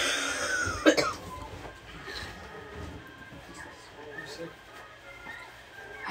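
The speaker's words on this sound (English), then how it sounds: "I just have this lingering cough." A person coughs sharply once near the start, close and loud, followed by quieter room noise and faint indoor sounds.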